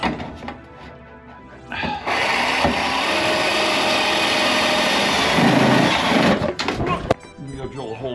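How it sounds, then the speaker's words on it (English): A power drill whirs loudly and steadily for several seconds drilling a hole in a gutter, with a brief change in pitch near the end, following some quieter handling noises. "Next step is to drill a hole in the gutter."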